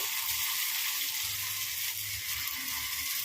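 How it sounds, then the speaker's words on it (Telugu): Dosa batter sizzles as it is spooned into the holes of a hot paniyaram pan, a steady close hiss running unbroken throughout. "ఒక్కొక్క గుంతలో ఈ పిండిని అయితే వేసుకుందామండి"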